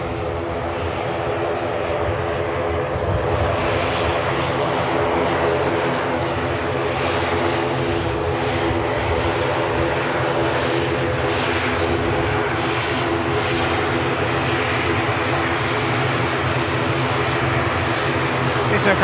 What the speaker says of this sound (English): the ATR for Dublin coming around the corner now